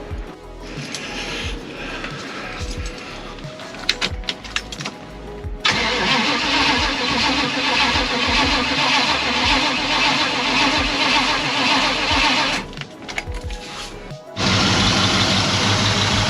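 A 1991 Chevrolet Caprice, rusty and worn, cranks with a jump box attached, stutters, then fires and settles into a loud, steady idle, with a brief dip and restart before it runs on.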